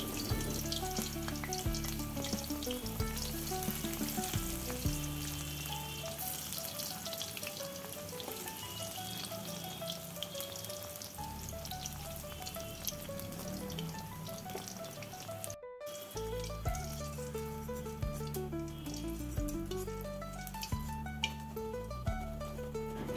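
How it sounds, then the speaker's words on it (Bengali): Brinjal slices fry in hot oil, a continuous bright sizzle and crackle that holds steadily for over twenty seconds, with faint stirring and a brief dropout partway through, and no voices. "এরপরে বাকি বেগুনগুলো আমি এইভাবে ভেজে নেব।"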